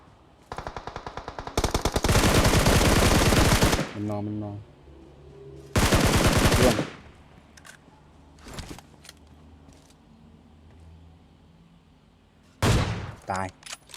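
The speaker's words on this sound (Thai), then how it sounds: "เสียงปืนใกล้ๆแถวนี้แหละ" Bursts of rapid automatic gunfire in the video game PUBG, loud and close, in several long volleys separated by pauses, with brief talking in between.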